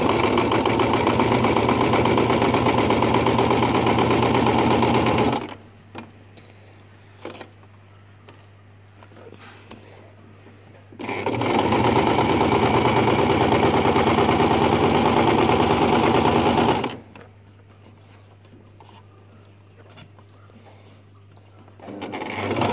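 A sewing machine stitches a kimono sleeve in two long loud runs, each about five or six seconds of steady whirring, with quiet low humming pauses between them and no talking.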